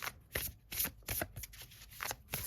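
Tarot cards are shuffled by hand in rapid repeated bursts of close, crisp riffling and flicking, each burst separated by brief pauses. No one talks over the shuffling.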